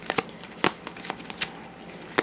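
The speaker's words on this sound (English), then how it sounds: "I'm just making sure these are way shuffled up" A small deck of cards being shuffled by hand up close, a run of quick crisp riffling snaps and flicks at irregular intervals, with no talk over them.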